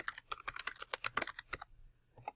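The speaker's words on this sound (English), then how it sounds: "Now you can type in a headline" Someone types a post headline on a computer keyboard, a quick run of crisp, close key clicks that stops suddenly, followed by a pause and two final taps.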